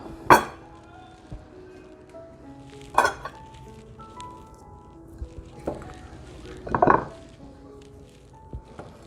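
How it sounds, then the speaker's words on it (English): Knife chopping vegetables on a cutting board for split pea soup, a few sharp knocks with pauses between them, close and fairly loud, other kitchen clatter in the background. "I'm going to start with cutting up all the vegetables"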